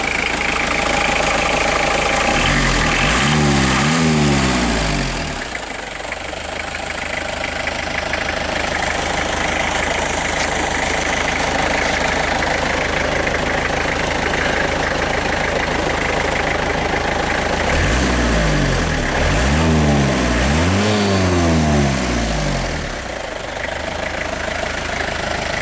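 A 1994 Chevy S10 converted from gas to diesel, its diesel engine running with a steady, rough mid-range drone, loud and close, broken by two swelling revs partway through, no voices.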